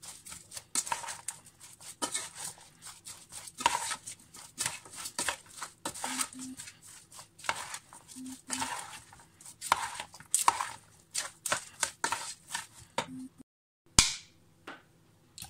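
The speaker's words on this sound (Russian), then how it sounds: "Все это мешаем." Seasoned pork ribs and potatoes are mixed by hand with mayonnaise and sunflower oil, giving irregular wet slaps, squelches and clicks against a bowl, fairly close and quiet, ending with a sharper knock.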